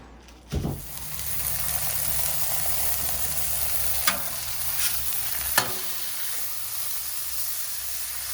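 Onion sizzling on a Blackstone griddle, a steady broad frying hiss that starts with a sharp scrape and runs continuously, with a couple of brief clicks or scrapes along the way and no talking.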